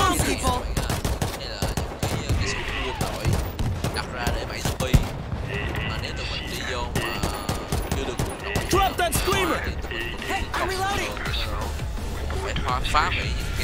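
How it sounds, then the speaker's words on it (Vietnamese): Automatic army guns fire in bursts at zombies in the World War Z game, dense rapid gunfire running continuously alongside other game noise, with talk over it throughout. "Đây là những cái súng quân đội đặt ra để bẫy zombie."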